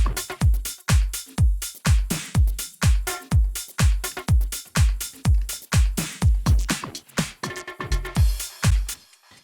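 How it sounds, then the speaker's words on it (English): Punchy drum loops play together in a steady driving rhythm, deep kicks pulsing regularly under crisp hats and snares, loud and close. "Together with the other drum loop, sounds like this."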